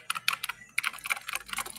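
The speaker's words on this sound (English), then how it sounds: "mechanical keyboard with LED backlight" Rapid typing on a mechanical keyboard with LED backlight, a quick run of crisp clicky keystrokes close up and fairly loud, with no voices over it.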